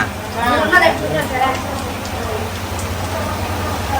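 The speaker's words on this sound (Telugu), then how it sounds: "వర్షం స్టార్ట్ అయిపోయింది" Heavy rain falls steadily outside a house, a dense, close patter that continues throughout, with voices talking briefly over it at the start.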